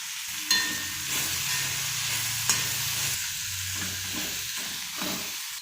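Ivy gourd stir-fried with dried prawns in a pan: a continuous close sizzle with the scrape of stirring, broken by a couple of sharp spatula knocks against the pan.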